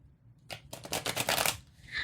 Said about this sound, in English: Let's give it another couple of shuffles.